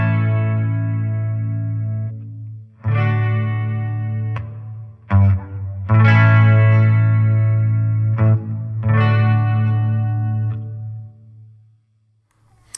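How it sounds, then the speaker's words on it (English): An electric guitar through a Fender Champion 40 amp with reverb and chorus plays sustained, shimmering chords in several strummed phrases, each ringing out with a wide, warbling wash that fades away after the last chord. "So that's a nice reverb with chorus"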